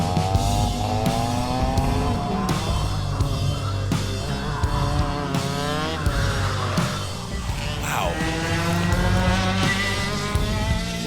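Go-kart engines race on a track, non-shifter and shifter karts, with a rasping, buzzing drone whose pitch rises and falls as the karts accelerate and pass, loud and continuous throughout.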